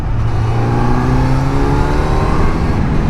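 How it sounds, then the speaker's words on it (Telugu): A Kawasaki Z900 motorcycle engine revs under throttle. A steady, loud drone holds its rising harmonic tones throughout, and no one speaks over it. "అండ్ థ్రాటిల్ కూడా గైస్, థ్రాటిల్ రెస్పాన్స్ చూడండి"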